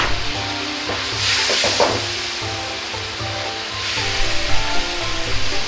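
Green onions go into a pan of mapo tofu, and a loud, steady sizzle fills the space, swelling with a burst of bright hiss as they land, then bubbling and crackling on without pause.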